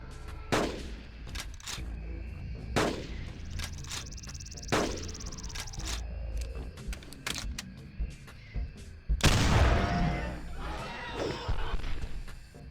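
Sawn-off shotgun shots while hunting a Therizinosaurus in the Carnivores game, several loud sharp blasts spaced a second or two apart, then a heavier burst with rumbling debris, amid a steady chirp of insects.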